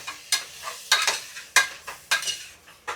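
Masala being stirred and sautéed in a pan for a tomato biryani, with a ladle scraping through it in repeated strokes about every half second and a soft sizzle underneath, close and fairly quiet.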